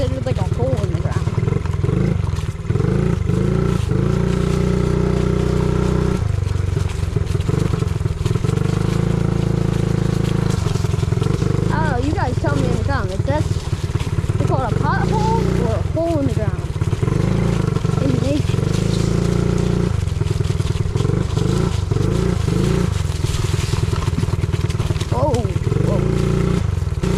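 A friend's mini bike engine idles low and rough, its carburetor taking in too much fuel, giving a loud, close, uneven chug that surges and dips, while people talk over it throughout.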